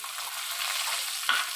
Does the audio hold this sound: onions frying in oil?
yes